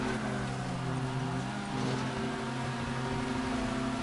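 Race car engine in GTA V Online racing holds a steady droning tone with shifting pitch as it revs, loud and continuous throughout with no talking.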